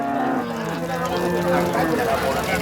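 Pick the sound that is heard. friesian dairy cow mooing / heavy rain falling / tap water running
friesian dairy cow mooing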